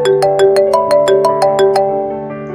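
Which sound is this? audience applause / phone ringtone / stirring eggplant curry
phone ringtone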